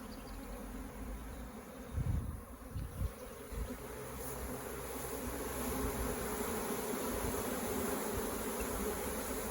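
Package honeybees at a hive drone in a steady, close buzzing swarm that swells slightly, with a few brief knocks and brushing sounds near the start.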